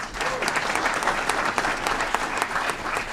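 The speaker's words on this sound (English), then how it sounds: "Big round of applause for Dr. Adrian Talley." Sustained applause from an audience at an Aurora city Committee of the Whole meeting, honoring a school district superintendent. Dense, steady clapping fills the whole stretch at moderate loudness, with no talk over it.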